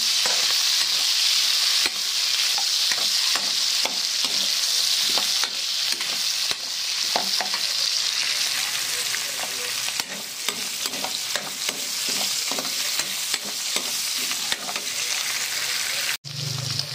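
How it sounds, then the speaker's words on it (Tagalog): Onions frying in a pan while being stirred, a steady loud sizzle with repeated scraping strokes of the utensil throughout, close up and mostly alone. "maglalagay po tayo ng sibuyas. Haluin po ito natin."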